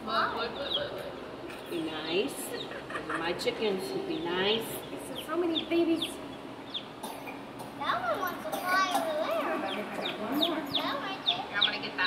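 Six chickens clucking and murmuring together close by on a farm, a steady busy chatter of hens with occasional louder calls, no speech.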